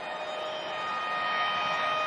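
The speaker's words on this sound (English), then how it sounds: "The siren sounds for half-time." A sustained half-time siren at a rugby league match wails steadily over a broad roar of stadium crowd noise, holding one pitch and swelling slightly louder toward the end.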